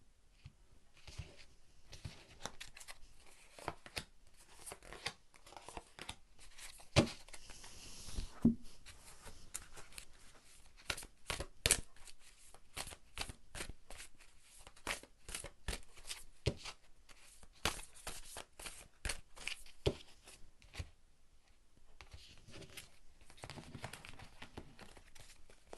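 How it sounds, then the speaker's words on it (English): Cards are shuffled and drawn from a Lightseers tarot deck, making a long run of close, quiet riffling, flicking and sliding card sounds with short snaps and brief lulls. "we're going to draw from another tarot. This is the Lightseers Tarot."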